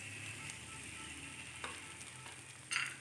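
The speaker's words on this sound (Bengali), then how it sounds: "এবার দিয়ে দিচ্ছি পেঁয়াজ কুচি, রসুন, গোটা কাঁচা লঙ্কা আর শুকনো লঙ্কা" Chopped onion, garlic, whole green chillies and dry red chillies sizzle softly in oil with cumin and black pepper in a wok, a quiet, steady frying hiss with a few small crackles.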